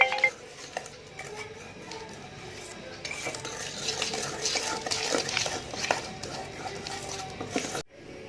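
Spoon or whisk stirring black forest cake batter in a bowl, steady scraping and clinking against the bowl throughout, fairly soft and close, with a brief pause near the end.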